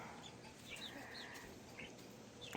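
A farm flock of chickens, some still in downy feathers, clucks quietly in a run, with soft scattered calls and chirps over steady low background noise.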